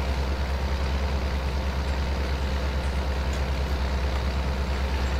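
A tractor engine idles steadily in Farming Simulator 22, a low continuous rumble held at an even level throughout with no talk over it.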